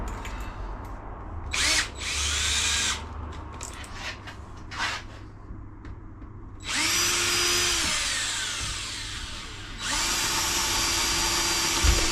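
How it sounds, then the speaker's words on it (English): A power drill whirs in three separate bursts, each spinning up to a high, steady whine before stopping, with quieter clatter and shuffling in the pauses. "grab the drill"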